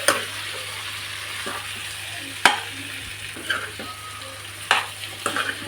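Boiled chicken being stirred in a frying pan for a spicy Andhra-style chicken fry, with a soft steady sizzle and occasional clacks of the spatula scraping the pan, close and without talk.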